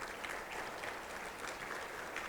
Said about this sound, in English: Now, you can clap for that.